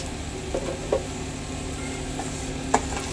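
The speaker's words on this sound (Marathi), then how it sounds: "परतून घेऊया जेणेकरून मीठ पूर्ण शेवयाला व्यवस्थित लागलं जाईल" Vermicelli upma with salt sautés in a pan, a soft steady sizzle under a few light scrapes and stirs of the spoon, close and fairly quiet, with no voices.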